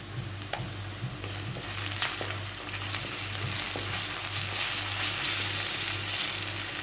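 Ginger-garlic paste sizzles and fries steadily in a pan of oil for prawn masala, with scraping stir sounds and light clinks over a constant broadband hiss and a low rhythmic hum beneath.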